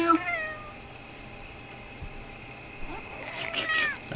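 A cat meows in the video game Haunted Halls: Revenge of Dr. Blackmore. There are a couple of short meows, mostly at the start, over a steady game hum, and brief rustling toward the end.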